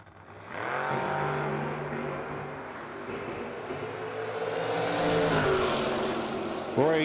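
Drag race cars at a No-Box 660 shootout launch and accelerate hard against an Oldsmobile, loud engines roaring and rising in pitch, holding strong through the run before a sharp burst at the end.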